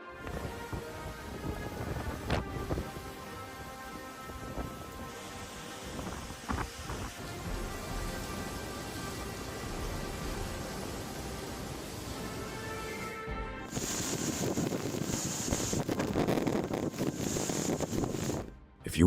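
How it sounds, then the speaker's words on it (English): Hurricane Helene brings heavy rain and gusty wind, a constant roaring wash of storm noise with occasional knocks, growing harsher and louder for the last few seconds. "Gusty winds and heavy rain from Hurricane Helene turned the peaceful landscape into a powerful"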